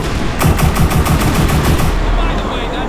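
Rapid bursts of automatic gunfire in a GTA 5 zombie mod game, close and loud, cutting off after about a second and a half, with background game noise continuing afterward.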